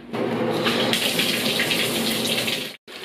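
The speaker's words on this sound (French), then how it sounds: "C'est le temps de prendre une douche." A shower runs at home on a summer weekday morning, a steady close hiss of spraying water that holds nearly unbroken for about three seconds, then cuts out briefly near the end.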